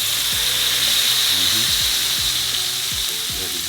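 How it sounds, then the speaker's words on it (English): A tomahawk steak sears in a hot pan, giving a loud, dense, continuous sizzle with a few faint low knocks underneath. "I'm just searing it one side."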